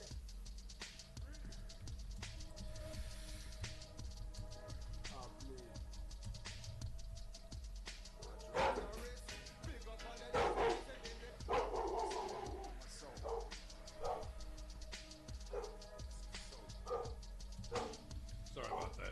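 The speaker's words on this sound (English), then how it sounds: "My dogs are going crazy." Several dogs bark in bursts in the background, with yips and whimpers mixed in, rising in the middle and faint throughout, under a person talking.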